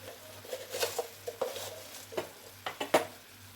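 Spoon scraping and clinking in a pan of shrimp curry seasoned with turmeric, chili powder and salt, in a series of soft irregular strokes, close and quiet, with no talking.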